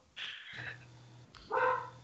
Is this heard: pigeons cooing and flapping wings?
no